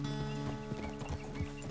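Horse hooves clip-clopping in Red Dead Redemption 2, several uneven thuds under a sustained musical score, close and fairly loud.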